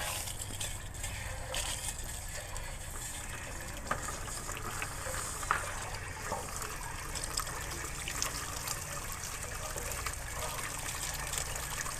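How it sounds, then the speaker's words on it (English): A water hose sprays into the inside of an RV water heater to rinse it out, producing a steady, fairly soft gushing hiss that runs without pause. "I'm going to take this opportunity to rinse out the inside of the water heater."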